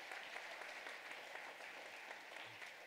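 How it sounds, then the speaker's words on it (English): An audience at a school Veterans Day program claps for the event's organizer, with steady, fairly quiet applause that continues evenly throughout. "Let's give her a round of applause."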